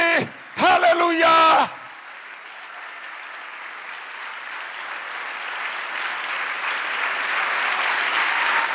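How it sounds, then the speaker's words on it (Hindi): A congregation at a church prayer service bursts into loud, sustained applause right after a brief shouted phrase from the preacher, building steadily and filling the hall. "जोरदार तालियां यीशु नासरी के लिए।"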